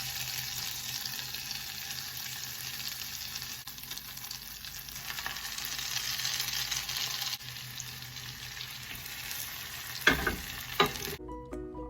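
Oil and butter sizzling on a griddle while cooking challah French toast, a steady close crackling fry that runs throughout, ending with a few clattering knocks.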